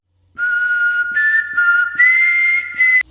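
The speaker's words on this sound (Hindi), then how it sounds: "हवा में अभी भी वही सीटी की आवाज गूंजती है" An eerie, melodic human-like whistle rises and holds in long sustained tones across several phrases, clear and close against near silence, ending in a sharp click.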